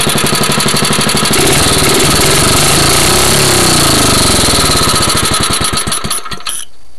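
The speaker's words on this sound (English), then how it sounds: "See if the motor starts back up." A 5HP Briggs & Stratton small engine runs loud and close with a rapid, harsh, even firing chatter that holds steady before cutting off abruptly near the end.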